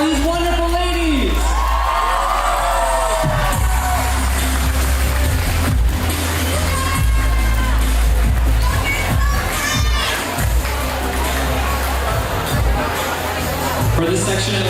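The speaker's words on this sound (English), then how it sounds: "Can we get one more loud applause for these wonderful ladies?" At a Miss Vietnam Florida pageant, a large audience cheers loudly for the contestants with whoops and excited shouting over a constant roar of crowd noise and babble.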